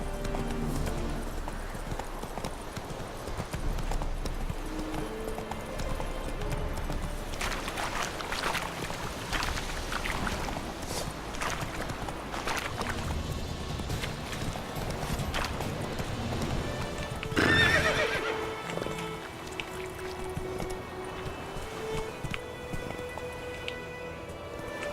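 Roach, the horse in The Witcher 3, gallops with steady rhythmic hoof clip-clops over ambient game music and environmental sound, and the pace holds throughout, with a brief louder swell near the end.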